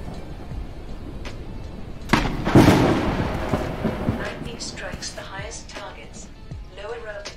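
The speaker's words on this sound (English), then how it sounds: "Oh, we did get hit by lightning." A lightning strike in the airship survival game Forever Skies hits with a sudden loud thunder crack and a rumble that slowly dies away, followed by clattering game sounds.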